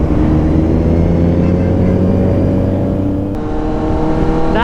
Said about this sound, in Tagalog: Mayroong kotse.